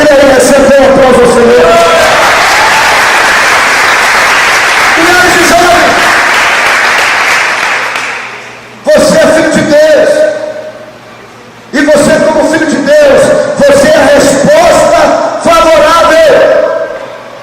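Large crowd of young people at a church youth camp applauding loudly with cheering voices mixed in, the roar sustained, briefly dropping out twice before surging back.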